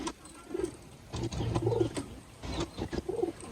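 A pet pigeon coos softly in repeated low, throaty bursts while being bathed, the calls close and fairly faint against quiet handling sounds.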